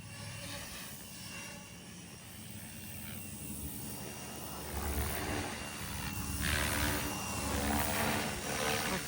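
A STEAM AK420 radio-controlled helicopter on a 4S battery flies at some distance, its rotor whine and buzz a steady, moderate drone that swells slightly toward the end over outdoor background noise.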